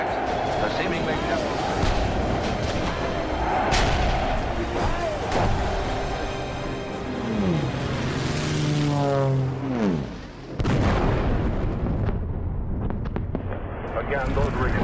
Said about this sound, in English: those were explosions overhead